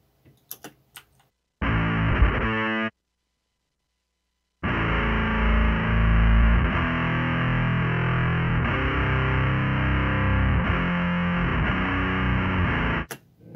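Audio files played back without conversion from an 88.2 kHz sample rate, giving a chunky, distorted, bassy sound in two bursts, a short one and then a longer sustained stretch, with faint clicks before it, no voice.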